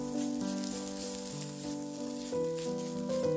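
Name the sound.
stir-frying fish cake with garlic and green onion in oil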